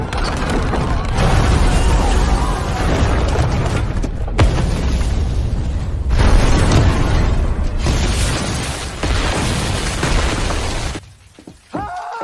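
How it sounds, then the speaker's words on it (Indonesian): Massive explosions tear through a temple and an iron-walled room in a film scene, a loud sustained roar of blasts and shattering debris rumbling for several seconds before dropping off near the end. "tidak hanya kuil saja yang meledak, tetapi juga ruangan besi yang tepat berada di belakang Andu dan Jilong"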